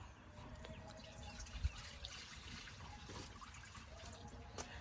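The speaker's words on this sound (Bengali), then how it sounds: "কড়ার মধ্যে দিয়ে দিব পানি।" Water poured into a kadai set on a village stove, heating for chitoi pitha: a soft, faint trickle and splash, steady and close, with no talk.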